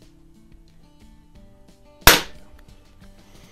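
A single sharp crack from a Quackenbush No1 air rifle firing .21 caliber TT shot, close and loud with a quick decaying tail, set against a quiet room with faint low hum.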